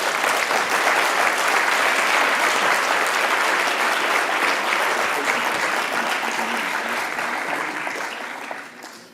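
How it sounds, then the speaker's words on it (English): A large audience at a meditation event at the United Nations gives a long, even round of applause, dense and full for most of the clip before tapering off near the end. "Let's give Gurudev a big round of applause."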